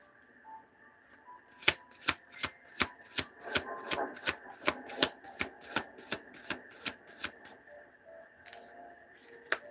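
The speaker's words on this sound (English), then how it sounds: "Shuffle." Tarot cards being shuffled by hand, a steady run of about twenty crisp, evenly spaced riffling snaps, close and fairly quiet, with no talking over them.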